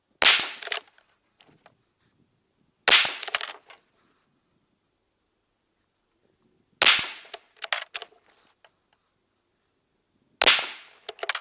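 Rifle firing Hornady Outfitter 120 grain CX 6.5 Creedmoor rounds, four sharp, loud cracks spaced a few seconds apart, each trailing off into a short echoing tail, with faint handling clicks and no talk.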